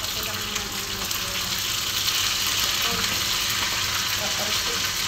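Sardines and onions fry in a pan with a steady, close, dense sizzle and crackle that holds level throughout, and a faint voice is heard under it.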